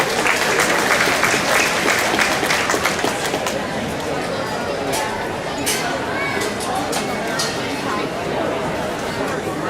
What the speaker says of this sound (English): Let's give them a good round of applause if you would.